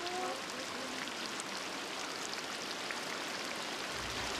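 Heavy rainy-season rain falls in the rainforest of the Zo'é people, a steady, dense hiss of downpour that continues without a break and with no voices.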